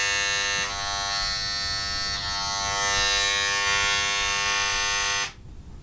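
A Parkside engraving tool from Lidl buzzes with a loud, steady high-pitched electric whine for about five seconds, close up and alone, then cuts off abruptly.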